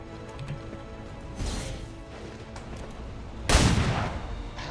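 Two shots from a flare gun in the XCOM 2 video game, a softer pop early on followed by a louder, sharper blast near the end, both heard over quiet game ambience.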